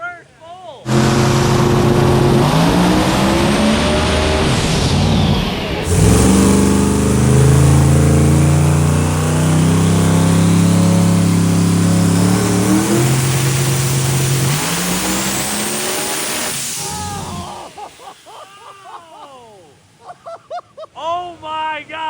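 A 5,000 horsepower car roars through a hub dyno pull, its engine revving hard and loud for about sixteen seconds before dropping away, followed by excited voices.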